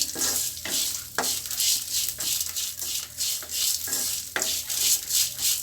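Thin slices of tamarind and curry leaves sauté in a pan with a soft sizzle, punctuated by rhythmic scraping stirs of a spatula every half second or so, close and without talk.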